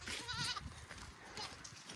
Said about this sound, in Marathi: हे ना 2 करडं झालते ह्या शेळीला